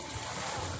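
Sea waves at a beach, a continuous close broadband wash of surf and wind filling the short moment alone.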